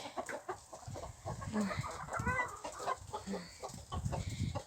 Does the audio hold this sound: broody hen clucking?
yes